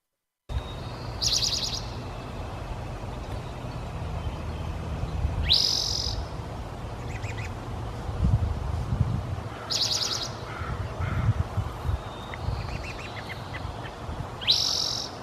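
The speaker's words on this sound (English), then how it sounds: "Here we go, the spotted towhee singing." Bright, buzzy spotted towhee song phrases repeat every few seconds in an outdoor setting, with faint other birds calling and low background rumble throughout.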